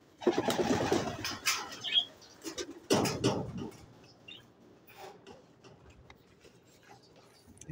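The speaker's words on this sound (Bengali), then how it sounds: "এই যে আমার কবুতর, এগুলো হচ্ছে ফেন্সি কবুতর, এবং একটা ঘুঘু আছে এখানে।" Fancy pigeons and a dove in a pigeon house, giving low soft cooing calls in short bursts close by, with rustling and scratching between calls and quiet stretches.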